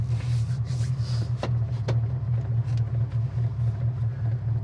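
A 1971 Ford Mustang cruising at low speed, its engine giving a steady, close low rumble with a few light clicks and knocks from the cabin and no talk.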